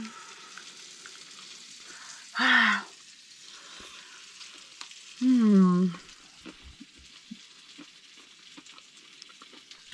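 Potato sofficini fry in oil in a pan inside a camper, giving a steady soft sizzle throughout, broken by two brief, loud tonal squeals.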